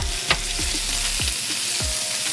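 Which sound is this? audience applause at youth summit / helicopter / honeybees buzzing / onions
onions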